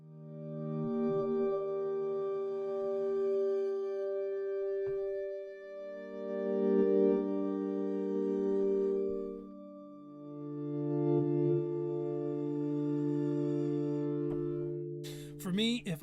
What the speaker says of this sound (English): Very simple sine wave kind of thing going on.